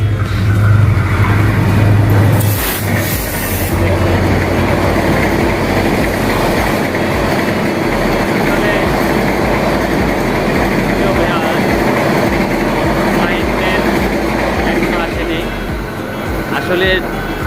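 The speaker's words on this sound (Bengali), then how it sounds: "ঢাকার থেকে আরেকটি ট্রেন আসছে" A train arriving at a station rumbles and clatters close by, a heavy low drone with rhythmic clacking, while people talk in the background.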